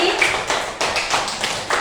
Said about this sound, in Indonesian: Baik, tepuk tangan untuk kita semua hari ini.